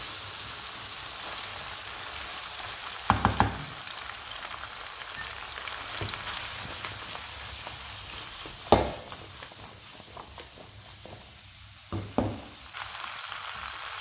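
Peppers and mixed vegetables for peperonata sauté in a covered pan over lowered heat, giving a steady soft sizzle throughout with a few sharp clinks of utensil or lid.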